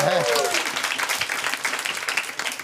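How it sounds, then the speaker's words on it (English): Applause from a charity stream crowd for a large donation total, a scattered burst of clapping and cheering that follows a brief vocal sweep at the start and continues fairly softly, with some voices mixed in. "can we get a round of applause for that?"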